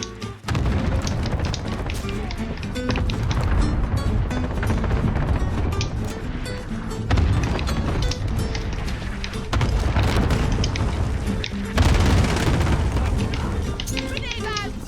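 Heavy booming explosions from a cluster strike in the Modern Warfare video game, rolling and overlapping continuously with gunfire amid dense battlefield noise, loud and sustained throughout, with in-game voice callouts mixed in.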